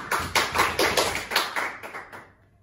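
Brief applause from a classroom of students during a biology quiz, a short burst of separate, fairly sparse claps that thin out and fade within a few seconds.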